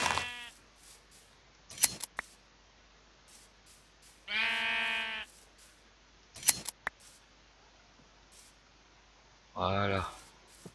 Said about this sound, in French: il y a encore plein de moutons par ici